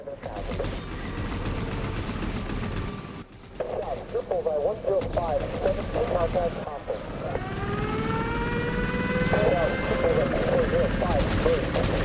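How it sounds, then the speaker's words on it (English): A helicopter in the VR video game Worlds at War thrums with a steady rotor roar and whining engine tones, while someone talks over it. "I guess we gotta jump into the helicopter"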